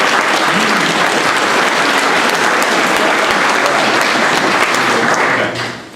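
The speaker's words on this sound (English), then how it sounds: "So let's first give them a round of applause." A large graduation-ceremony audience for the Croft Institute for International Studies breaks into sustained, loud applause, dense and steady for several seconds before tapering off at the end.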